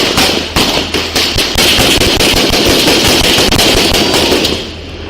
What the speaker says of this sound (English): Got gunshots in the work, guys.